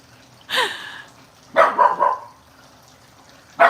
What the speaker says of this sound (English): I don't know if she's gonna stop barking.